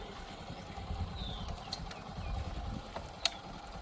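A motorcycle engine idles faintly in the background as a low, steady rumble, with a few light clicks and clatters on top and no speech.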